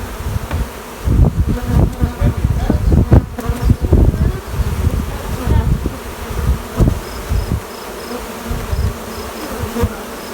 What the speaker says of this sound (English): we'll be able to look at all these little clumps of bees hanging out